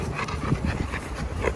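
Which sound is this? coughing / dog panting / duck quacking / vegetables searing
dog panting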